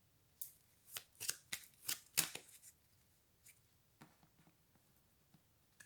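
Tarot cards are shuffled in a quick flurry of crisp riffling slaps that builds to a peak, then a few scattered softer card sounds follow, close and quiet with no talking.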